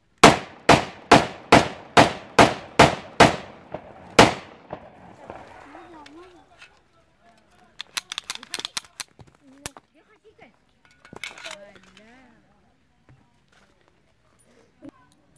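An all-steel 30 bore 7.62 caliber pistol fires a rapid string of about nine loud, evenly spaced shots, followed by clicks and handling noises, with someone talking afterward.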